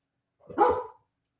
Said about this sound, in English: Weather Storm said you got her dog barking, Egypt.